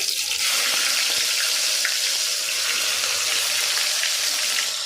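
Mustard seeds and cumin dropped into hot oil for a tomato bath, giving a loud, dense, steady sizzle that fills the clip close up, with faint popping crackles and no talk.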